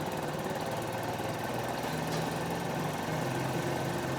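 Motorcycle engine held at high RPM during carburetor tuning, a dense, steady buzzing drone throughout, close and fairly loud with no talk.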